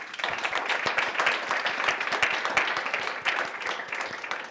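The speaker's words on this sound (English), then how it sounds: "let's give some applause" Steady applause from an audience at a data science panel event, dense overlapping claps filling the whole stretch at an even, moderately loud level with no talk.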